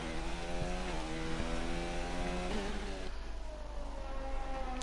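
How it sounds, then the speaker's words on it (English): A Honda racing car engine in a racing video game winds down as it decelerates, a steady buzzing drone with falling harmonic tones and brief gear-change blips, fairly loud and continuous. "Love that sound of the Honda engine as it decelerates."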